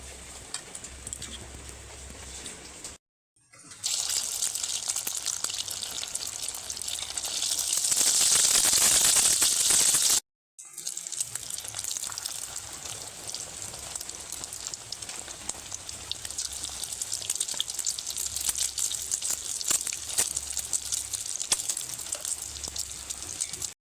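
Egg jali kababs deep-frying in a pan of hot oil, a dense continuous sizzle and crackle, loud and close, broken by two brief gaps and swelling strongly in the middle.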